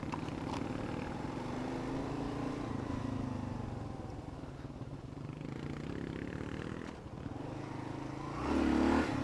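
Dual-sport motorcycle engine running slightly rich while riding a Virginia highland horse trail, a steady low drone with rattling clatter and scraping, rising louder near the end.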